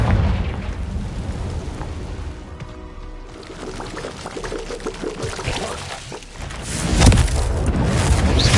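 In Hogwarts Legacy, the Confringo fire spell goes off as a rolling, crackling fiery rush, then swells into a heavier booming burst toward the end.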